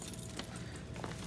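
Keys jangle in short, bright metallic bursts at a trucker's departure while packing up, close and fairly quiet over a low steady background rumble.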